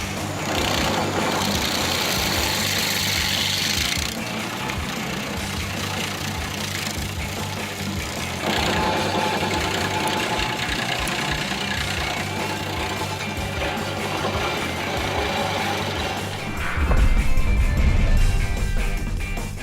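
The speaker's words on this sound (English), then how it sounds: "The new Bobcat tiller for the E35 mini excavator helps remove tree stumps exceptionally quickly." A Bobcat E35 mini excavator fitted with a tiller attachment grinds out a tree stump, its engine droning steadily and loudly throughout, with heavier low rumbling surges near the end.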